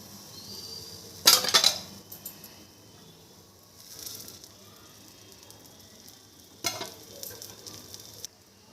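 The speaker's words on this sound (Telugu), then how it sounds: "స్టవ్ సిమ్లో పెట్టుకొని కాల్చుకోవాలండి. ఇది సిమ్లో పెడితే బాగా వస్తుంది ఊతప్పం." Idli-batter uttapam fries in oil on a stove pan set to low heat, giving a soft, faint sizzle with two louder bursts of crackling and spatter spaced a few seconds apart, and no voices.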